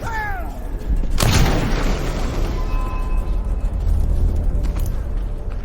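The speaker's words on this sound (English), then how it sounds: "That's gunshot." A single loud gunshot in Dishonored 2 cracks out sharply about a second in, followed by a lingering rumbling tail and game ambience, with no talk over it.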